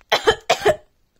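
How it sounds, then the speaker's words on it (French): A voice gives two quick, close coughs in succession during play with toys, then falls silent. "Oh, je tousse."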